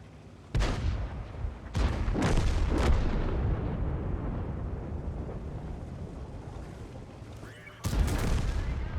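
Tank cannon fire in the video game PTA: a handful of sharp, heavy booms with rumbling tails, spaced irregularly and followed by a final loud blast, over a low ambient background.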